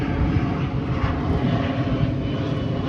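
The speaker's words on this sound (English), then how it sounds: "we're close to Key West Airport, so let me let this aircraft go by" Airplane passing low near Key West Airport over an RV campground, a loud, steady, close engine roar that fills the whole stretch with no talking.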